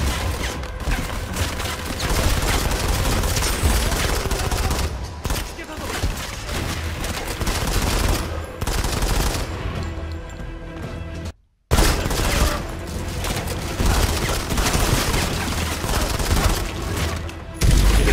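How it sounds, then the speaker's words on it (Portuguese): Dense, rapid gunfire in the video game Modern Combat 5 rattles almost continuously, with bursts and booms layered over busy background noise and a brief silent gap midway. "vou dar um baita de um tiro aqui agora"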